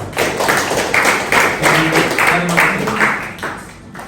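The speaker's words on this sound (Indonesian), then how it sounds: "beri aplaus untuk perwakilan kelompok 3" A classroom erupts in loud, steady applause for group 3's representative, dense clapping from many hands sustained for several seconds before tapering off at the end.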